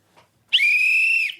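A single sharp, high whistle blast, blown to scare off a bear, holds steady for just under a second before cutting off in otherwise quiet surroundings.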